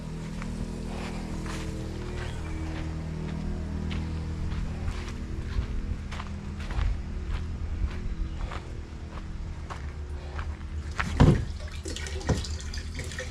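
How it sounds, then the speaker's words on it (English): Water runs steadily as a tank is filled from a well, fed slowly by a generator-powered pump; a continuous close flow with faint footsteps and a brief louder splash or clatter near the end. "So I'm filling the water right now, so I guess I better go check it"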